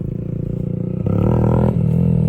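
A Yamaha WR125 or YBR125 motorcycle engine drones, then revs up sharply with a louder rising roar about midway as the bike lifts into a wheelie, before easing back slightly.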